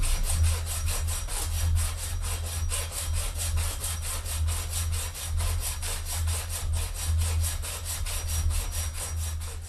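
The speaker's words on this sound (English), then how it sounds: "I will be using the hacksaw blade alone" Rapid, rhythmic back-and-forth rasping of a bare hacksaw blade cutting on an ATV crane boom rotational lock, steady strokes at close range with a low hum underneath.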